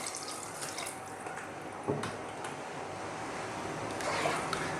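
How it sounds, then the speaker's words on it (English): Cold water is poured into a fish head curry pot, a steady splashing, trickling flow with a small plop near the middle, close and continuous, with no speech. "Now we're going to put some water in, just some cold water."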